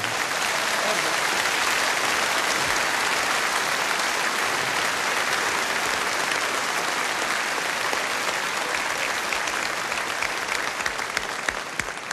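A large audience at a televised folk-music show in Passau gives a band sustained, loud applause, a thick even roar of clapping that carries on without a break.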